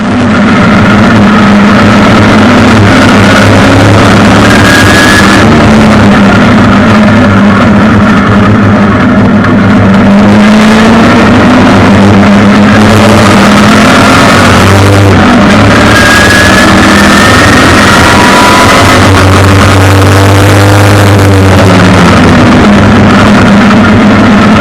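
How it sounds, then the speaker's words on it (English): An LS-swapped BMW E36 with turn-away exhaust tips drives a race track warm-up session in traffic, its engine droning loudly and continuously, the pitch rising and falling through gear changes and corners, heard close from inside the car without talk. "Here's the first warm-up session, driving with some traffic, getting ready for the hot lap sessions."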